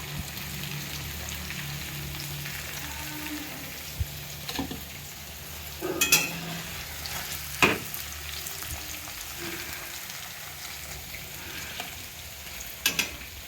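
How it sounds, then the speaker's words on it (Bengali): Paneer pieces frying in oil in a pan, a steady soft sizzle with a few sharper clicks and scrapes from the utensil scattered through. "আমার পনিরগুলো কিন্তু হালকা লাল লাল করে ভাজা হয়ে গেছে।"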